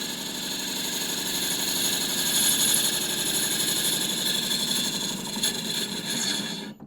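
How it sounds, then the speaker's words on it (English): A bowl gouge taking a push cut across a spinning wooden bowl on a wood lathe, giving a steady, continuous whirring hiss with a high tonal hum that holds for several seconds and trails off near the end. "I use something like this bowl gouge to take a push cut"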